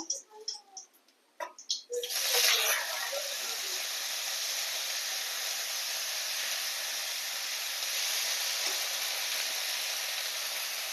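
Squash flowers seasoned with salt and turmeric drop into hot oil and fry with a loud, steady hiss that holds evenly after a few brief clatters at the start.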